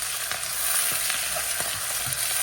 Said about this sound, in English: We're going to stir-fry them up.